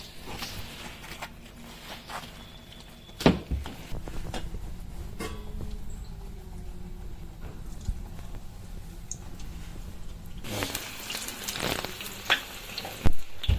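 Oil heats and fries in a kadai for crispy beguni, giving a low steady sizzle broken by a few sharp knocks and clatters, with the frying growing louder toward the end.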